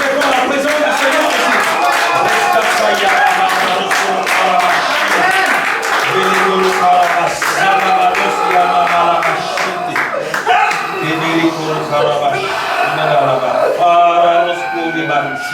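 Church congregation applauding and cheering in praise, dense sustained clapping and acclamation mixed with loud music and voices throughout.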